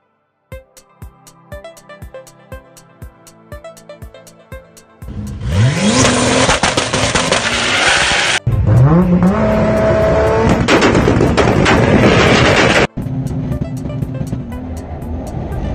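A heavily modified 1500whp Toyota Supra race car blasts off hard, engine screaming through rising gear pulls with sharp cuts between shifts, loud and close, after a rapid ticking, clattering lead-in.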